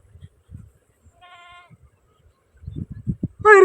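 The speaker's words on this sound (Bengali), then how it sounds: "আমি ছাগল আনলাম" A goat bleats, first a short quavering call, then a louder, sharper bleat at the end, with soft thumps and shuffling in between.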